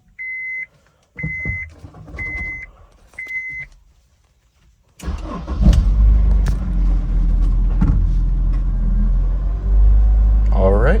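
Honda S2000 engine starting after a clutch flush: a series of four short electronic chimes with talking, then the engine fires and settles into a loud, steady, close-up idle rumble.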